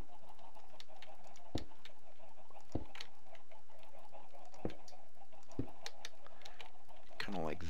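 Sparse, sharp clucks from chickens in the video game Minecraft, a handful of short calls spaced a second or so apart, with a quick flurry at the end and a soft constant background underneath.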